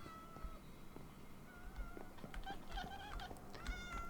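Several Minecraft cats meow repeatedly over a dense, continuous background, with overlapping short tonal mews scattered throughout, mostly in the second half, at moderate loudness and with no talking.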